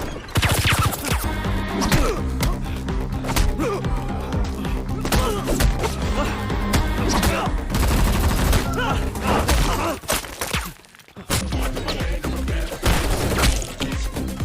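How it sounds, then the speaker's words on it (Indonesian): A film gunfight plays as dense, loud bursts of gunfire mixed with crashes and impacts, overlaid by music and voices, with a brief drop in intensity near the end. "di tengah baku tembak yang masih berlangsung, Ragu sempat dibuat kewalahan"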